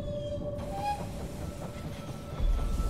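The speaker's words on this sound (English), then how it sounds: "The train has arrived at the station." A train rumbles into a station in the strategy video game They Are Billions, a steady mechanical roll with faint tonal whistles and a low thump near the end, no voices.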